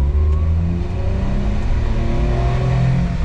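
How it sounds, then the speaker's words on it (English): Subaru Domingo kei van engine at full throttle, a loud, close, continuous mid-pitched drone rising steadily in pitch as the small van accelerates, with no talking. "If I put my foot all the way down,"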